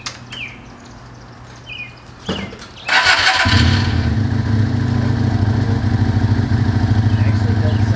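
A Lifan Lycan motorcycle engine cranks with a few short bursts, then catches and settles into a loud, steady idle that runs to the end; faint chirps come before the start.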